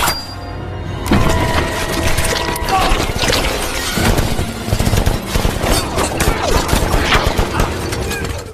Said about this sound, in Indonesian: si pimpinan Yakuza menembakkan pistol ke sembarang arah saking paniknya